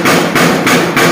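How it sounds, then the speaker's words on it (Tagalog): A hammer strikes the steel edge of a sink bowl being fitted into a table, four loud, close, evenly spaced metallic blows with no voices. "Ganun dapat ang pagpukpuk."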